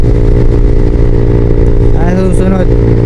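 Motorcycle engine droning steadily throughout a road ride from Infanta, Quezon to Angono, Rizal, loud and close with a brief rising tonal sweep near the end, and a voice speaking over it.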